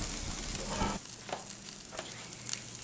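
Lamb or pork chops grilling in a pan, a steady broadband sizzle that is loud and close at first, then drops to a softer crackle with a few brief spatters.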